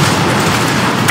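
A missile strikes and destroys an enemy helicopter in Call of Duty: Modern Warfare 2, a loud, continuous, rumbling explosion that fills the whole moment, with no voices over it.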